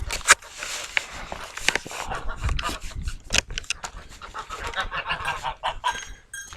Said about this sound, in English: The geese are here